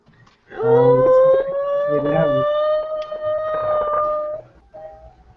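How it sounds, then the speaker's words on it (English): A wailing siren holds a steady rising tone with strong harmonics, sounding loud and close, starting abruptly and running for several seconds before fading. "we have the air raid sirens currently going off in our area"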